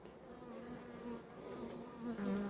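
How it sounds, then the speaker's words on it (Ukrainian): Carniolan honey bees buzzing steadily around a newly introduced queen at a hive, a close, continuous drone with shifting pitch and occasional louder passes, no voices. "Все, маємо бджілок і маточку."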